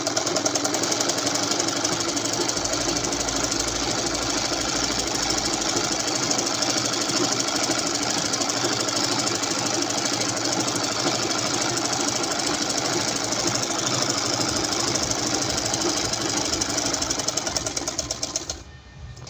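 A sewing machine stitches a garment sleeve along a marked line, running as one loud, steady mechanical whir with no pauses until it slows and stops near the end.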